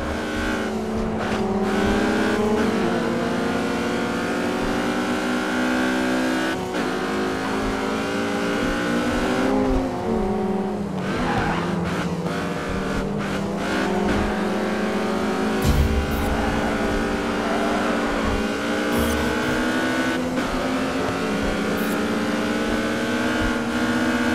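Sports cars race in the GRID 2 video game, engines droning and revving continuously at high pitch with shifting gears, occasional tire squeal and passing cars, loud and steady throughout.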